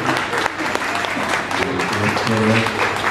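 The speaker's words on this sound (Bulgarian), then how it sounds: "Аплодисменти, моля, чудесните изпълнения." An audience at a concert applauds after the performances, with steady, fairly loud clapping throughout and a speaker's voice heard over it.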